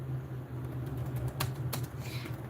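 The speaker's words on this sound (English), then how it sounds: "oh, I'm just typing notes." Notes being typed on a computer keyboard, giving a few faint, scattered key clicks over a low steady background hum.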